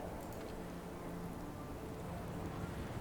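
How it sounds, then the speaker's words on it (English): Steady rain falling in the frozen city of Frostpunk, a strategy video game, a soft, constant hiss with no breaks, faint and even throughout. "Ooh, look, it's raining."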